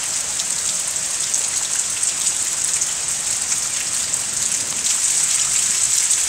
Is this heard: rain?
yes